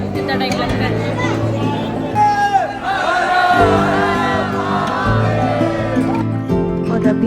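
Crowd of devotees inside Trimbakeshwar temple, a dense hubbub of voices and calls filling the space throughout, with a nearby speaker talking over the steady murmur.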